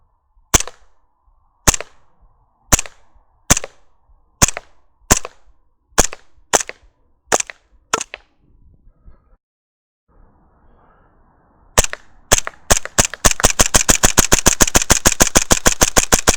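A TriFecta Hi-Capa airsoft pistol shooting 0.2 gram BBs on green gas at a 30-foot range: about ten sharp, evenly spaced loud cracks, a pause, then a rapid fast-paced string of shots close up.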